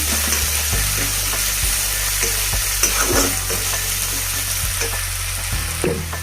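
Carrots stir-fried in a hot pan for Schezwan rice, with a steady loud sizzle and repeated scraping strokes of a spatula, no voices.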